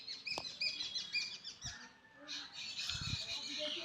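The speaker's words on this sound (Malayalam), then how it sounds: "ഇവിടെ എന്താ കിളിയുടെ ഒക്കെ ശബ്ദം കേൾക്കാൻ നല്ലൊരു സുഖമാണ്." Birds chirp around a house balcony in a light, scattered pattern of short high tweets and squawks, fairly faint and close by, with a few low bumps between calls.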